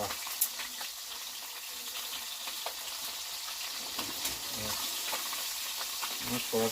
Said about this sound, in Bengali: মাছ ভাজা শুরু করে দিয়েছি আমি